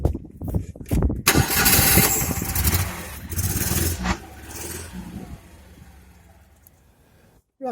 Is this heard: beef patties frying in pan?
no